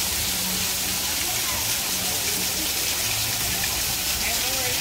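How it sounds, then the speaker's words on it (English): A waterfall at a theme park, a loud, steady rushing roar of falling water like heavy rain, continuous throughout and close by. "I love waterfalls."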